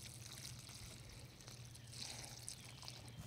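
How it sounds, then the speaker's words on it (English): Water pours and trickles steadily onto the soil around a newly planted Itoh peony in a garden bed, a soft continuous stream close by with no talking. "And we'll go ahead and water it in."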